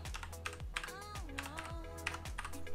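Keys clatter on a Rii K66 programmable mechanical gaming keyboard, a quick irregular run of crisp clicks and clacks close up, with faint electronic tones ringing underneath.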